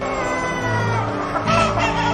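Rooster crowing on a farm, a bright drawn-out call with a harder rise near the end, heard close over a steady background of farmyard noise and fowl clucking.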